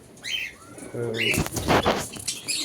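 Pigeons flutter their wings in a burst and give short calls nearby, with a rustling, airy background.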